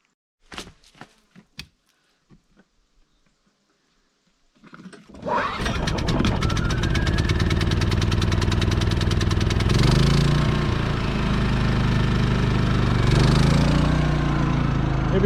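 A portable generator at an outhouse gets a few sharp pull-start tugs and rattles, then fires up and runs with a steady, loud, close engine drone for the rest of the clip.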